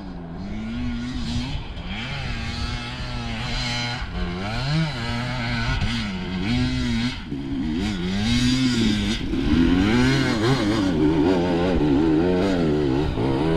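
A 250 cc motorcycle engine revs steadily for a long stretch, its pitch rising and falling as the throttle is worked, loud and close throughout.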